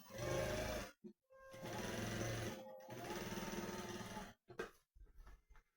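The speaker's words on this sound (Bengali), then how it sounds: "তোমরা দেখো 4 নম্বর পার্টের চাপ সেলাইটা কিরকম দিতে হয় দেখো" A sewing machine runs in bursts as it top-stitches a blouse piece in a tailor's shop, with three loud stretches of steady whirring stitching broken by short pauses and a few brief stops at the end.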